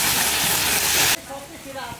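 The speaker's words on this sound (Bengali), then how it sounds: "তো একটু পানি দিয়ে দিলাম।" Water poured into a hot pan of Bengali silver carp fish curry with tomato, a loud hissing sizzle that cuts off sharply after about a second, followed by quieter bubbling.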